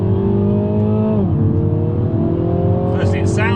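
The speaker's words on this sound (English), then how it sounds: "As we come up to the corner, I'll put into second, and then we'll accelerate hard out here." A Mini John Cooper Works Clubman downshifts to second and pulls hard out of a corner, the engine note dropping at the shift and then climbing steadily, loud and close from inside the car.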